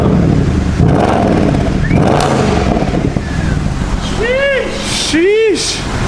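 A wrecked Mercedes S550 under rebuild revs its engine in a loud, steady roar, with two sharp rising-and-falling rev blips near the end and voices around it.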